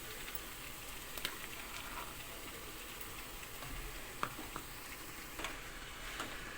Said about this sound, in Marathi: दोडका पूर्ण मसाल्यामध्ये मिक्स करून घ्यायचा.